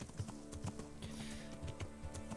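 A horse's hooves clip-clop at a steady gallop rhythm in the medieval game Kingdom Come Deliverance, repeated thudding beats close and fairly soft, with a faint whinny-like tone running beneath.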